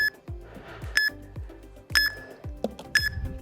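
A workout interval timer sounds a short, sharp electronic beep roughly once a second, four beeps in a steady rhythm, close and clear, with faint clicks between them.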